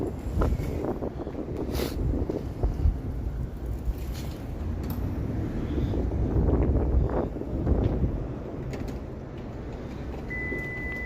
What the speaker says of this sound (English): the wind was blowing crazy because guess what? We're back in the tall building area here. We get the wind tunnel effect again.